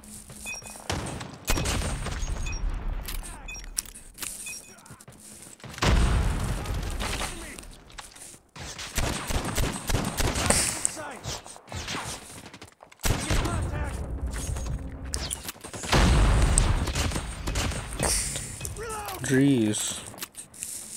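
Pistol fire in the mobile shooter Call of Duty Mobile, with bursts of shots and booming impacts spread across the clip over steady game noise, loud and close, with a person talking throughout.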